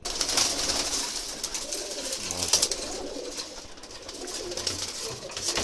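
Pakistani pigeons cooing nearby in soft, repeated throaty calls, with a few brief rustles and flutters in between.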